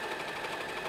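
A sewing machine stitches fabric for a medieval-style cape, giving a brief, steady, fast whirring hum at moderate loudness with no speech.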